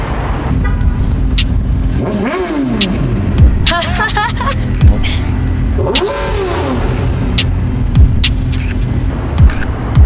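A car passes along an outdoor road during a portrait photo shoot, its engine rising and fading as it goes by, with a second vehicle audible shortly after, under moderate steady background noise and some talk nearby.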